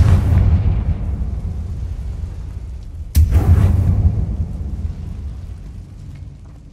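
A Confringo fire spell from Hogwarts Legacy bursts twice inside a tomb: a deep rumbling blast at the start, then a sharper, louder boom about three seconds later, each trailing off into a long low rumble.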